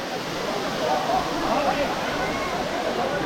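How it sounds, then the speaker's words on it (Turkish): Sudüşen waterfall in Yalova, Turkey, gives a steady, full rushing roar throughout, with voices faintly audible beneath the water. "Su düşen şelalesine geldik."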